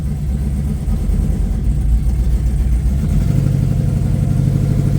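Steady low rumble of the LS-swapped 1986 Cutlass with a high stall converter running close by. It idles evenly, then climbs into a louder, thicker rev partway through, with no talking.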